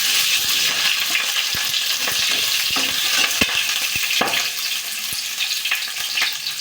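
Green chillies sizzle in hot oil with cumin for a fasting-day sabudana khichdi, a steady close crackle with scattered sharp pops throughout and no talking.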